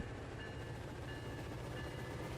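Amtrak Superliner passenger cars rolling steadily on track in the RO-Scale Sandbox train game, a continuous close rumble with a faint tonal whine riding over it, no pauses.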